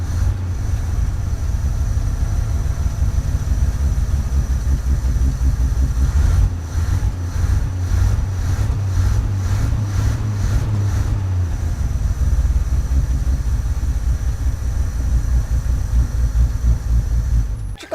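An old car engine idles steadily after being restarted, a loud continuous low rumble throughout with a brief rhythmic pulsing stretch partway through, and no talk over it.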